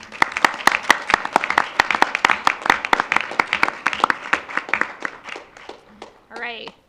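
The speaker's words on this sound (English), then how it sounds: "will you join me in a round of applause?" A small board of education meeting audience gives a round of applause, a sparse set of distinct, fairly close hand claps in an uneven rhythm that thins out toward the end, followed by a brief voice.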